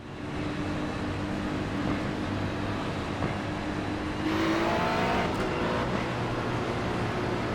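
GT3 race cars roll off together at Virginia International Raceway in a racing video game, a steady layered engine drone with rising revs as the pack accelerates, loud and continuous with no talk.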